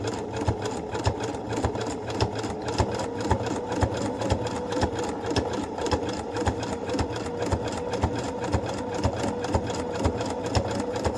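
A sewing machine stitches a cushion cover with a pocket, running in a fast, even mechanical rhythm of needle strokes with a steady motor whir, close and continuous with no talking.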